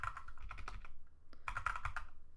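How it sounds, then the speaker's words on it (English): Rapid typing on a computer keyboard, close and clear, in two quick bursts of clicking keys separated by a short pause, with no voices. "let's type in city"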